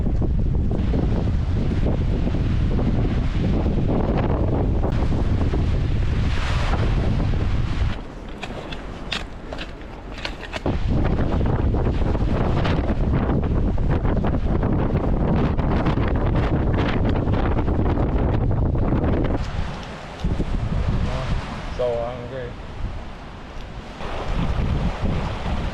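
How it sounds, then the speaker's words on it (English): Strong wind on Patagonia's W-Trek, with rain falling, roars and buffets against the microphone in loud, uneven gusts, dropping briefly into calmer lulls before surging again; no voices. "It's fairly windy, raining, but it's my last day."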